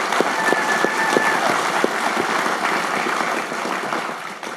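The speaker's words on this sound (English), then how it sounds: "Round of applause." A live studio audience gives a round of applause, dense clapping that stays steady before slowly thinning out near the end, close and loud.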